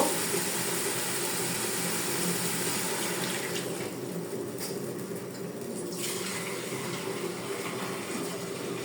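Water pours steadily into a potato curry gravy in a frying pan, a continuous soft splashing flow that lasts throughout with no talk.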